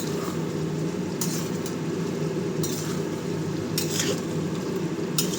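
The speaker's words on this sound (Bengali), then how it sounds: "এবার এটা দিয়ে একটু নাড়িয়ে চাড়িয়ে নেব" Malabar spinach chorchori with a hilsa fish head being stirred in a pan, a steady low scraping and sizzle running throughout with a few brighter utensil clinks against the metal.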